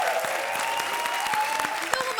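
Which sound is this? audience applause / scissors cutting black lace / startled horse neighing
audience applause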